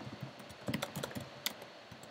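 Typing on a computer keyboard while entering a font size value: a close, steady run of light key clicks with no talking.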